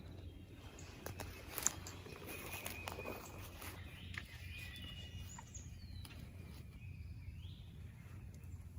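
A wild turkey hen calls from a distance across a creek bottom in Indiana, producing faint, scattered clucks and yelps over quiet outdoor background noise.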